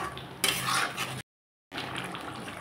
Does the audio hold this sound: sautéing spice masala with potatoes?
yes